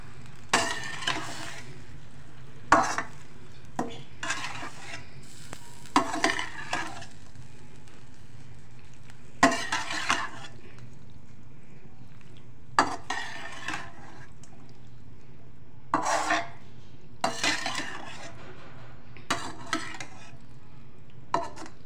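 Spoon stirring boiled macaroni in a cooking pan, scattered scraping and clinking strokes spaced a few seconds apart over a low steady background hum.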